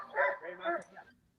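Hunting dogs barking during a competitive hunt, a quick burst of two or three yelping barks at moderate distance, over in about a second.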